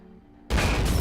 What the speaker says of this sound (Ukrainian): Ще один постріл.